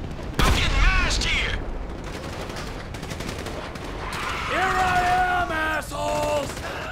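Gunshots ring out in Grand Theft Auto V gameplay, a sharp loud blast followed by scattered firing, with someone speaking over the action.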